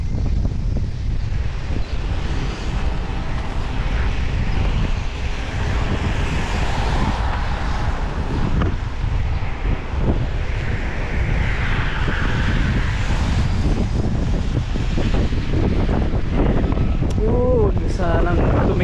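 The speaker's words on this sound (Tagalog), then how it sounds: "Lakas ng hangin." Strong gusty wind buffets the microphone in a loud, continuous roar lasting throughout, with a person speaking at moments over the rushing noise.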